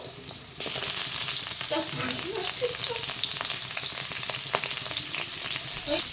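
Potatoes frying in hot oil in a pan at home, a steady loud sizzle with occasional stirring scrapes, continuous and close, with no talk.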